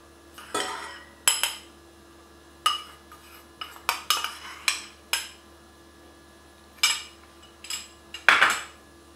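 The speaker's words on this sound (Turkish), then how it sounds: "1 litre sütün içerisine 4 yemek kaşığı nişasta ekliyorum" Spoonfuls of starch are added to a litre of milk in a pot, a run of sharp metal spoon clinks and taps against the pot, irregular and close.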